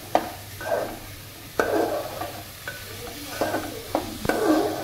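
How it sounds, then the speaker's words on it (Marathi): Chopped onion sautéing in a pan until brown, with a steady close sizzle broken by repeated scraping stirs of a spatula, no talking. "आता बघा कांदा व्यवस्थित ब्राऊन होईपर्यंत ह्याला मस्त परतून घ्यायचा आहे."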